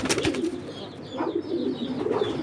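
Racing pigeons in a breeder's loft coo repeatedly, a low throaty burbling that rises and falls close by, with several birds overlapping in a steady murmur.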